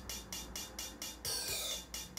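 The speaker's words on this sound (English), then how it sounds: "So with the other hi-hat that sounds like this." A hi-hat sample from the production of a track plays as a steady run of crisp, evenly spaced ticks, then opens into a longer sizzling wash before the closed ticks resume, loud and alone.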